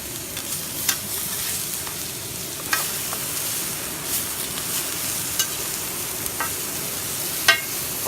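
Onions sizzle on a camp griddle outdoors in the High Sierra. A constant hiss of frying runs throughout, broken by sharp scraping clicks from a spatula every second or two, with no talking.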